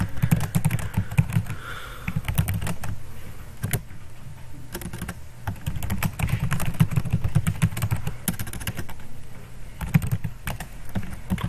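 Code being typed in Turbo C++ on a computer keyboard, a close, loud run of rapid clicking keystrokes in irregular bursts with brief pauses, no voices.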